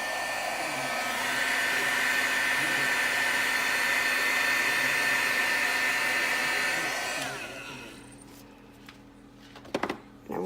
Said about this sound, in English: You want to be careful if you're throwing a heat gun on UFO because it will melt it.